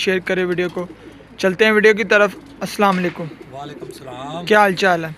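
Pigeons released from a loft, with green and other fancy breeds kept by a pigeon keeper. Low cooing sounds faintly in the background while men greet each other and talk loudly over it.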